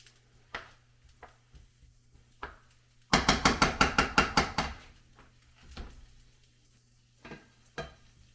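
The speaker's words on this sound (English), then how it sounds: "After this sautés a little bit, then I'm going to add onion." Bacon and butter sauté in a pan for string beans, a rapid burst of about eight sharp knocking scrapes from a utensil amid scattered lighter taps and clinks, close, no speech.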